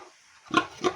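A free-range sow on a small farm gives two short, rough grunts in quick succession, close by against a quiet background.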